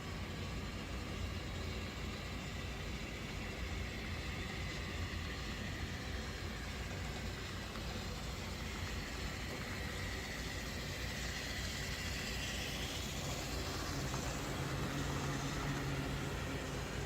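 A steady, dense mechanical rumble with a constant low hum and whirring motor noise from three model locomotives, including an Athearn Genesis GP38-2, pulling a heavy train against a dynamometer, with no voices.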